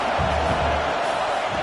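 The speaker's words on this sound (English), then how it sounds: "Home crowd trying to make a difference on 4th down." Home crowd in a football video game roars steadily through a tense fourth-down moment, a loud continuous wash of cheering with no clear breaks.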